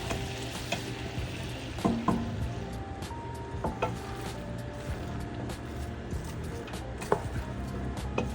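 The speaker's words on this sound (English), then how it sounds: "we're going to get the onion slices in there, and this is when we start to reduce and caramelize the onions" Onion slices frying in melted butter in a pot as they begin to reduce and caramelize, a continuous close sizzle with occasional stirring clatter and light knocks, steady and moderately loud, no speech.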